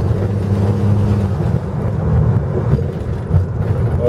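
A 1970 Ford Mustang with an automatic gearbox is driven along, its engine giving a loud, steady low rumble heard from inside the moving car, with road and wind noise and no voices.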